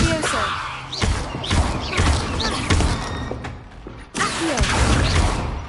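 Levioso levitation spell in a Harry Potter video game, a run of magical whooshes, creaks and soft thuds repeating about once a second, with a sharp break near the end before it resumes; a voice is faintly present.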